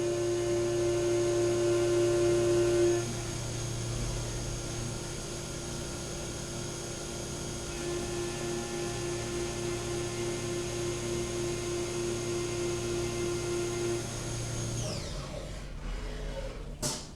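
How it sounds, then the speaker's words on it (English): A Haas Mini Mill 2 CNC machine runs rapid moves, a steady mechanical whine with shifting motor tones held for many seconds, then winding down near the end. "How about those rapids?"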